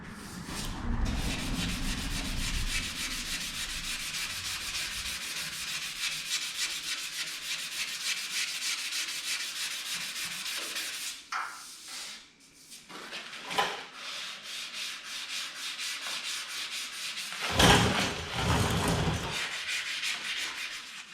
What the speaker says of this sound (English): that thing's sanding out nice